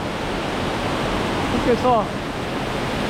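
Steady roar of a waterfall in a canyon, a constant broadband wash of falling water close by, with a brief voice speaking over it midway.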